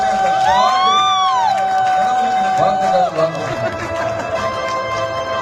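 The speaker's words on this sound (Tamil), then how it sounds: "நல்ல ஒரு கைத்தட்ட கொடுங்க" An audience claps and cheers for an award-winning artist. The crowd noise swells and carries on under a loud voice that talks over it the whole time.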